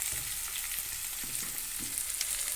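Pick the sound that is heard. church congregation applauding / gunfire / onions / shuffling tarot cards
onions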